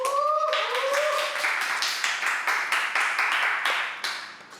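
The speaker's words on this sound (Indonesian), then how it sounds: "Tepuk tangan buat Bang Eca." A small group claps in applause, a dense burst of hand claps with sharp rhythmic slaps that gradually thins and fades, while a voice briefly calls out at the start.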